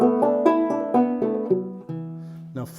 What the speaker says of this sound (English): They're built in this minor pentatonic scale